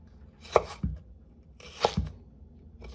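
A knife chops celery into tiny cubes on a board for egg salad, giving a couple of quick paired crisp cuts, each a sharp tap followed by a thud, close and alone with no talk.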